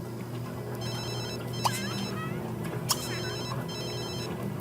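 A telephone ringing in the life-simulation game The Sims 3, with repeated bursts of a bright electronic ringtone over a steady background hum and a couple of short chirps, no speech.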